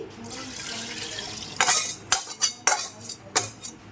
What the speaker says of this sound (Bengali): আমি এই যে কড়াইটা ধুয়ে জলটা দিয়ে দিচ্ছি